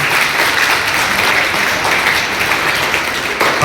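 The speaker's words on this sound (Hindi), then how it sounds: "एक बार सभी विद्यार्थी अपने लिए और टीम्स के लिए तालियां" Students in a school hall clap together at a National Mathematics Day maths quiz, producing a continuous, fairly loud burst of group applause.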